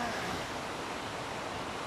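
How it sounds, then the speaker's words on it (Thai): Waterfall beside a stream, a continuous, even rush of falling water filling the whole moment at steady volume. "ตรงนี้เป็นน้ำตกค่ะ"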